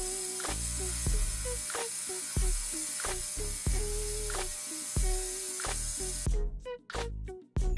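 An ultrasonic cleaner runs with a Yamaha XV 750 carburetor inside, giving a harsh, close, rhythmic clatter of repeated ticking pulses over a hissing buzz that cuts out near the end.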